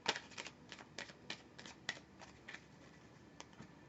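Lenormand cards being shuffled, a series of soft crisp riffling bursts at an uneven rhythm, close and fairly quiet.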